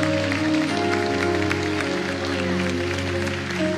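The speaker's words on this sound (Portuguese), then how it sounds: "Aplauda Ele bem forte." A church congregation claps firmly and continuously over sustained keyboard or organ music that plays throughout.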